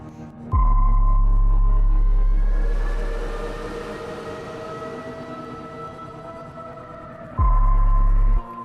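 Surround kraken monster effect in Halloween music: deep, loud rumbling swells with a sonar-like tone that open and close the passage, and a hissing, washy roar between them.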